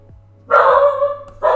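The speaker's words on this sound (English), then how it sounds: "That would be my dog." A dog at home barks twice indoors, close and loud: a long rough bark, a short gap, then a second bark that is cut off.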